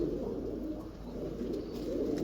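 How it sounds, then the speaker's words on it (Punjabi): A Kasuri pigeon coos in a low, steady murmur that runs throughout, fairly close and moderately loud, with no voices over it. "ਇਹ ਕਸੂਰੀ ਆ ਕਬੂਤਰ ਜਨਾਬ"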